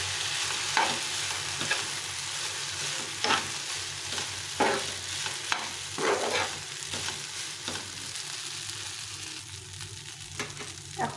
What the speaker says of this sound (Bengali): বেশ কিছুটা সয়া সস দিয়ে দিলাম, দিয়ে আবার একটু নেড়ে নিতে হবে।